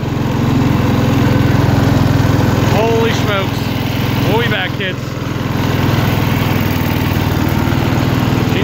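Hydrostatic riding lawn mower with a weak hydro drive, engine running steadily and loudly close by with a continuous low drone, while people talk and exclaim over it.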